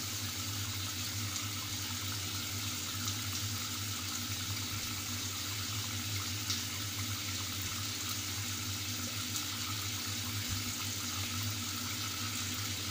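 Water runs steadily from a tap fitted with a heat-sensitive, colour-changing faucet head, a constant close hiss and splash into a sink with no talk over it.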